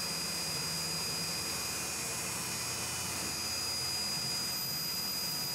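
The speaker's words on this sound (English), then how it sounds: "So I'm doing thread milling right now" A CNC machine thread mills a tiny threaded hole with a small carbide 4-40 thread mill in Timascus knife stock, a constant machine hum with steady high-pitched whining tones throughout and no talking.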